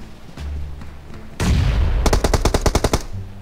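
Gunfire from behind the player in PUBG Mobile comes as a heavy blast, then a rapid burst of about ten evenly spaced automatic shots, loud and close, with a faint voice at the start.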